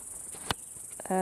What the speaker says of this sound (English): Crickets have a lot to say about it.